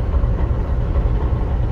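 Deep, steady engine rumble from inside the cab of CSX locomotive 7876, pushing corn cars late at night; loud, continuous low drone without breaks.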